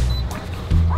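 A puppy on a fishing outing lets out a short, close yip, with a brief bark-like burst in the one-second span over steady background engine rumble.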